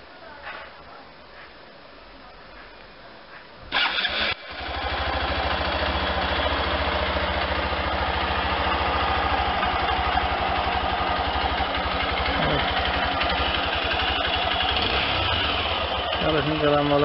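A Hero XPulse 200 motorcycle, brand new with about 3 km on it, starts up with a brief cranking burst and then settles into a steady, loud idle that runs close by and unbroken to the end, with some talk over it.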